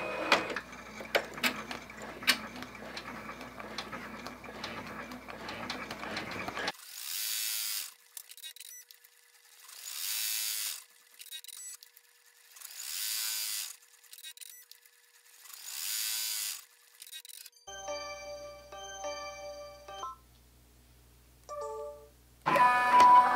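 An embroidery machine stitches fabric while tacking down a placement section for an in-the-hoop sanitizer case, producing a run of short, loud mechanical bursts separated by brief pauses after a noisier opening.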